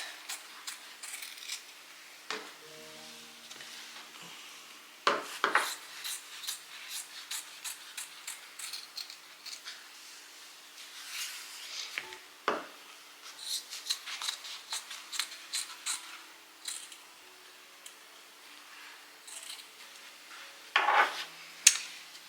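Scissors cut thrifted men's shirt fabric into triangles, giving repeated close snips and crisp slicing bursts with quiet pauses and a few light clinks.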